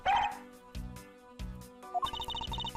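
Cartoonish dog barks from the Ace Attorney Investigations video game, a few short yips repeating at a steady beat, followed by bright chiming game sound effects.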